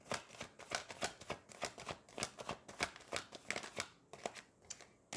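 Tarot cards being shuffled by hand, a quiet run of quick, papery riffling bursts that repeat steadily for several seconds with no voices.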